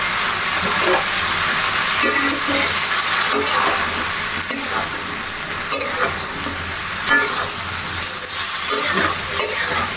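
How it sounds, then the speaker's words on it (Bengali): Green banana, potato and papaya sautéed with spices in a pan, loud continuous sizzling with repeated scraping stirs of a spatula, close and dense for the whole stretch. "কলা আলু আর পেঁপে মশলার সাথে কিছু কষিয়ে নেব"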